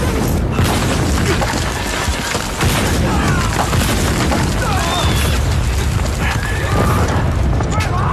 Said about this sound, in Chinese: 这炮怎么打进来了？